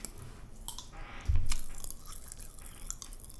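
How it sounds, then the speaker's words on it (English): Pop Rocks candy crackling in a mouth as it meets saliva, a close, faint wet fizz with scattered tiny pops and one louder crunchy burst. "more of a popping, sizzling sound that it would do when it hits the saliva in your mouth"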